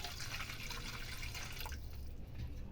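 The first rice-washing water is poured away from a vessel in a steady, close splashing stream that tapers toward the end, with no talk.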